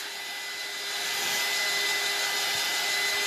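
Hair dryer blowing on chalk paste over a reusable transfer, a steady loud whirring hiss that swells slightly in the first second and then holds constant, close by with no talking.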